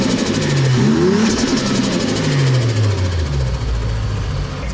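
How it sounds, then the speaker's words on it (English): Toyota JZX110 engine running loud and steady through a new FuelTech intake pipe, with a deep rumble and a few rising and falling rev sweeps, close up and without voices. "intake pipe sounds really nice"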